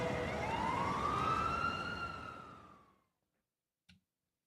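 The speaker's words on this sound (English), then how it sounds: "I still don't know why there's police sirens" Police sirens wail and sweep upward in pitch, loud at first, then fade out over about three seconds into silence, followed by one short faint knock.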